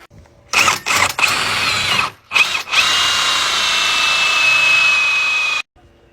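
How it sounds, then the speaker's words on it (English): A power drill with a 2 1/8 inch hole saw cutting into a door, a few short stuttering starts followed by a long, loud, steady whirring grind of about three seconds that stops abruptly. "Get your 2 1/8 inch hole saw."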